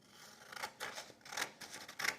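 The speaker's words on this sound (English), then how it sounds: "So I'm going to cut that out" Scissors cut out a printed paper quote, with a series of crisp snipping and rustling strokes close by, about five distinct cuts spaced irregularly.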